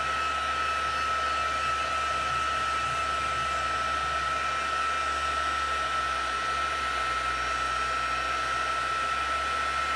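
Heat gun blowing hot air over heat-embossing powder on a craft project, a steady loud whooshing hiss that runs unbroken throughout.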